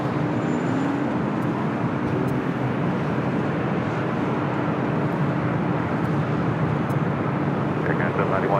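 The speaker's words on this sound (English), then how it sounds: "Sun Country Airlines 737-800, the older livery." Sun Country Airlines Boeing 737-800 at LAX, a steady broadband jet roar holding throughout at moderate distance amid airport ambience, with voices talking over it.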